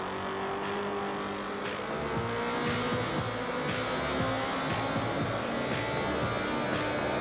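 Engine of a car racing at night in the Need for Speed video game, a steady sustained drone with rising pitch as it accelerates, continuous and fairly loud throughout, no talking.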